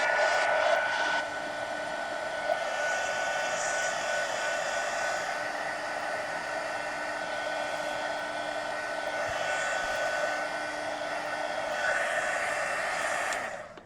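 A hair dryer blows steadily at close range over a freshly colored page in an adult coloring book, a loud continuous whooshing hum that holds almost unchanged before cutting off at the end.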